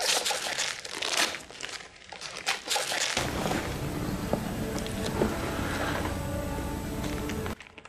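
Gift wrapping on a present is torn and crumpled open by hand, a close, steady run of paper crinkling and ripping that lasts several seconds, with no talk over it.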